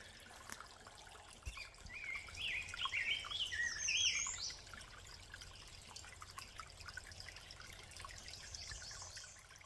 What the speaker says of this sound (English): Listen to that bird. How beautiful.